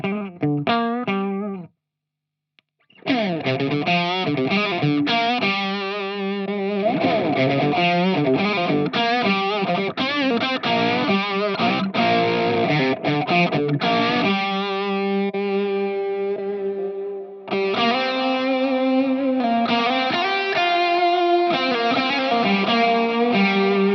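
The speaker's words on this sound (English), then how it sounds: "Let's run it with 2 overdrives stacked, and then we'll have some reverb and delay from my board too." Electric guitar played through an HX One effects pedal with two stacked overdrives plus reverb and delay, loud and continuous with sustained distorted chords and riffs, a brief pause near the start, no talking.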